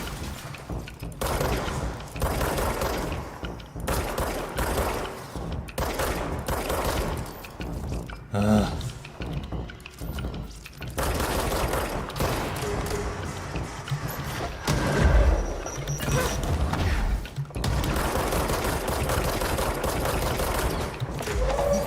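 Gunfire from the video game Control, likely a machine gun, sounds in dense bursts and thuds for about twenty seconds, loud and sustained with brief gaps, mixed with other game noise.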